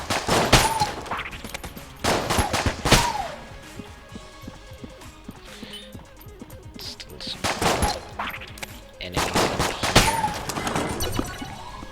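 Enemy gunfire from the roguelike shooter Enter the Gungeon, with loud bursts of shots and shattering impacts arriving in clusters, separated by quieter stretches of scattered pops and clatter.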